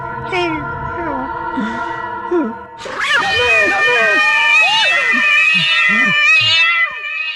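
A cat meows loudly and repeatedly at close range, drawn-out cries following one another, with tonal background sounds at the start.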